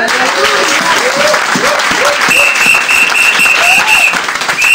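A church congregation applauds loudly and steadily throughout, dense clapping joined by cheering voices and shouts from the crowd.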